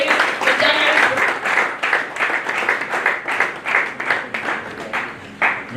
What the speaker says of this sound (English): let's welcome, with a round of applause, Sheung Adeyeri